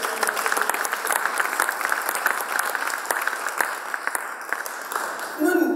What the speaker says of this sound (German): Das verdient übrigens auch meinen Applaus.